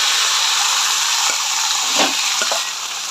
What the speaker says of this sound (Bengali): মাংসটা ঢেলে দেবো।